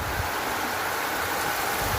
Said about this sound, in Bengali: অনেক বৃষ্টি হচ্ছে ভাই আমাদের দিকে